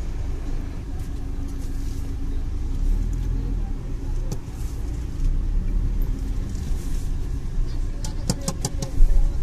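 A car engine runs steadily at low revs while the car is parked near a hillside temple, with a continuous low rumble and a few faint clicks and knocks near the end.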